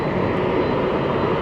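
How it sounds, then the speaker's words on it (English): A large airplane roars steadily overhead at Atlanta Hartsfield airport, a loud, continuous engine rumble filling the whole moment with no voices. "Can't argue with the fact that that is an airplane."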